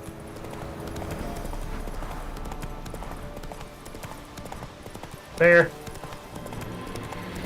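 A horse gallops in the video game Witcher 3, its rhythmic clip-clop hoofbeats running steadily throughout. Someone talks over the hooves, and a brief louder burst of sound cuts in near the end.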